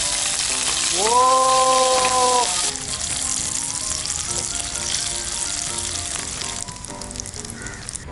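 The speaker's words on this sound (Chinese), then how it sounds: "所以现在我们要拿来煎豆腐" Tofu frying in a pan during outdoor wild cooking, a bright continuous sizzle heard close up, with a short excited exclamation from a voice near the start.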